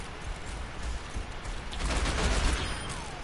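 Single-fire weapon shots from an Overwatch hero, a dense burst of gunfire in a busy game battle, loud and continuous with crackling impacts and rising intensity toward the end.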